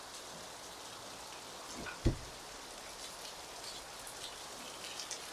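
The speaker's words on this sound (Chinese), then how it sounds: "今天早上又是下大雨" Heavy morning rain falls in Luang Prabang, Laos, a soft continuous hiss of drops heard from a little distance, broken by one sharp close knock near the middle and a few faint ticks later.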